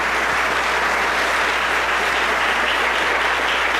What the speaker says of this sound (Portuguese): Você pode aplaudir ao Senhor Jesus bem forte.